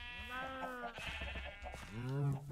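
Sheep in Minecraft with the FTB Skies modpack give several close, wavering bleats, one early, a brief pause, then a louder bleat near the end, with a voice talking over them.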